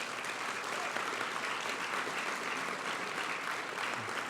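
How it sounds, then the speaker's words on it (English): An audience at a Gresham State of the City address claps in a steady, moderately loud round of applause that holds evenly without any talking. "Let's give them a big round of applause."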